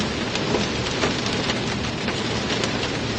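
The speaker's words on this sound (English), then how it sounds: "This hail is about pea-sized." Pea-sized or smaller hail pours down on a car during a severe Texas storm, a dense, steady roar of pelting ice close overhead with no pauses across the whole stretch.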